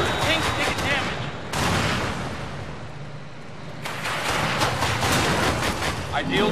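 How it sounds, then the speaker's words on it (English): Heavy cannon fire in the tank battle game Battle Battalions, loud booming blasts and rumbling impacts filling the scene continuously, with a radio-style voice reporting over the combat. "Sir, cannons very effective."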